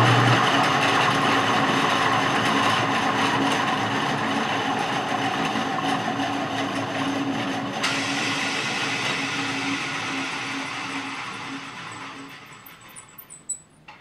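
A bandsaw fitted with new balanced wheels runs with a loud, steady motor whir and blade hum that winds down toward the end, with no talk.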